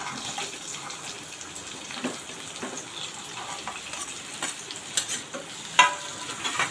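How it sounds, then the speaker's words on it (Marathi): Diced potatoes tossed into hot oil with chillies sizzle and crackle up close, with repeated scraping stirs and a few sharp spatters toward the end. "आता इथे मिरची आपली परतून झालेली आहे तेलामध्ये त्याच्यामध्ये जे बटाटे आपण फोडी करून आहेत त्या घालणार आहोत"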